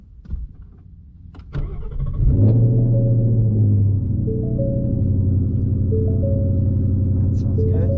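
A manual car's engine cranks and catches, then settles into a loud, steady rumbling idle close by, with a few faint clicks over the top.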